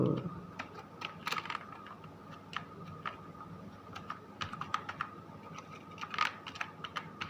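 A computer keyboard being typed on in irregular bursts of close, light key clicks that come faster in places, with no talking.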